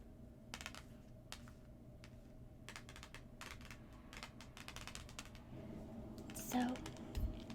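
Tarot cards laid out one by one on a table in a soft-spoken setting, giving a series of light, quiet taps and slides spread across the span, close and faint, with some low talking in the background.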